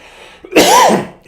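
A person coughs hard and chokes on a peanut M&M: a short harsh burst of close, loud coughing that rises suddenly and trails off after about half a second.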